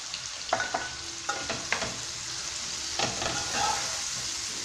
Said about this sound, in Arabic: نقلي مليح حتى تدبل لنا كامل هذيك البصل